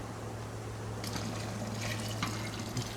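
Additional water is poured into a boiling brew kettle during an electric partigyle homebrew session, giving a steady liquid splashing over a constant low electrical hum.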